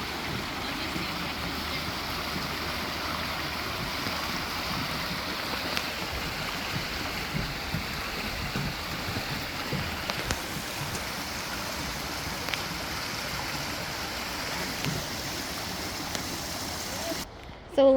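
A small waterfall feeds into Potter Marsh, rushing as a steady broadband wash of falling water that holds nearly constant throughout, close and moderately loud.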